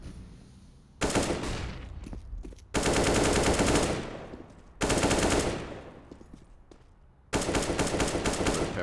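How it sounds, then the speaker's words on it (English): Gunfire in Counter-Strike on the de_overpass map during an ESL Challenger League match: four separate bursts of rapid automatic shots, each loud and then trailing off, with quiet gaps in between and no talk. "Still, Spermy gives the chance, but Rezion will miss the shot."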